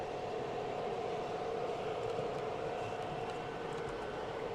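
An O gauge model Conrail train runs on a modular layout, producing a steady rolling rumble and hiss of wheels on track, close and continuous, with faint clicks and no voices.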